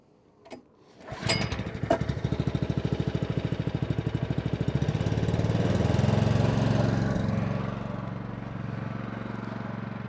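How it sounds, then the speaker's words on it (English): The engine on a VSI hydroseeder starts after a few clicks, catches, then settles into a steady, close, throbbing run that swells a little midway before easing to a constant idle. "make sure your valves are in the right configuration and start the engine"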